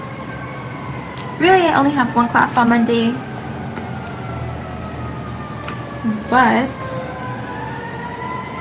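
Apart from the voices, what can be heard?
emergency vehicle sirens outside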